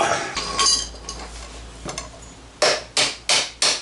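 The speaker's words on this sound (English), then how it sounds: "I know I shouldn't be using a hammer, I should be using a nylon mallet or something" Sharp metallic hammer blows on a car axle ring out, a few scattered strikes followed by four evenly spaced hits in quick succession, close and loud.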